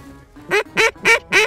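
Ducks calling over big open water during a hunt, four loud quacks in a steady rhythm, close and alone without talk.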